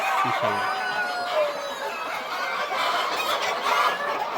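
Many hybrid laying hens in a poultry shed cluck and murmur together in a steady, crowded chorus, with a noisy background throughout.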